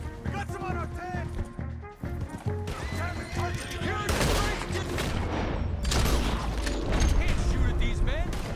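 Gunfire and shooting in the video game Red Dead Redemption 2, rattling in bursts under loud overlapping in-game voices and horse sounds, growing denser and louder through the second half.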